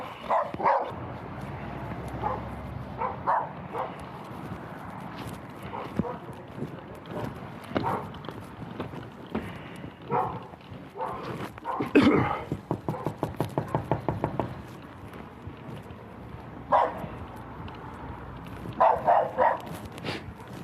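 Aggressive dogs bark in repeated bursts scattered through the scene, close and loud at times, mixed with knocking, a rapid rattling stretch and background noise.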